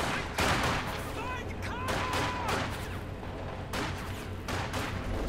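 Sustained MG42 heavy machine gun fire in a wartime video game, a dense continuous clatter of bursts with distant booms behind, loud and steady throughout.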